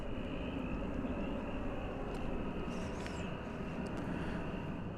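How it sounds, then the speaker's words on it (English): An American Airlines Boeing 737-800 taxis toward runway 18 left at DFW for takeoff, its engines producing a steady low rumble with a thin high whine, faint and distant, without talk. "American Flight 2199, a 737-800, making its way to the top end of runway 18 left for takeoff to Austin"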